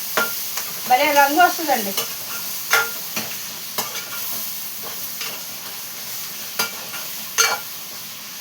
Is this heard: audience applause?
no